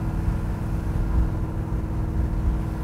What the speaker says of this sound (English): I love the exhaust system on this car.